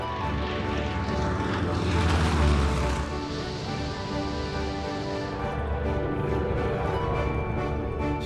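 A vintage Fokker D.XXI fighter with a troubled engine makes a low pass at Hoogeveen airfield, a steady propeller drone that swells to a broad whooshing peak as it passes, then fades back to a continuous engine hum.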